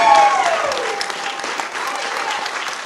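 Theatre audience applause after a stage production of Charley's Aunt, steady and loud throughout with a crowd clapping together and a brief whistle near the start.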